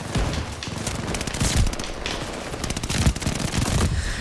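Rapid automatic gunfire from a close-range gun in the shooter Call of Duty: Vanguard, loud and dense, with bursts of fire blending into a continuous clatter and scattered sharper shots.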